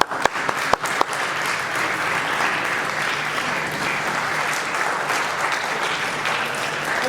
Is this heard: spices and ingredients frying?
no